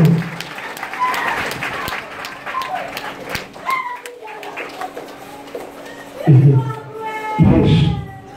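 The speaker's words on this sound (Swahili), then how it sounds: "Piga makofi kwa Yesu Kristo." A church congregation in Dar es Salaam claps hands in rapid, uneven rhythm beneath a loud, chanting voice that rises and falls over the clapping, with louder vocal bursts near the end.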